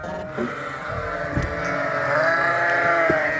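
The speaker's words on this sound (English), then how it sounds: "the ewes are all excited to see me with the skid steer" Ewes bleating on a sheep farm during evening chores, with a skid steer nearby; the calls are overlapped by a steady engine hum, a few rising cries standing out near the end.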